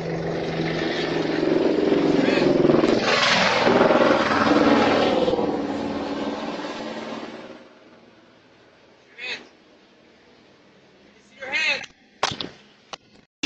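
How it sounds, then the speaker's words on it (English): A steady, loud helicopter rotor-and-engine roar overhead fills the first several seconds, then cuts off, leaving silence broken by a few short sharp noises. "Sounds like the chopper's on you, buddy."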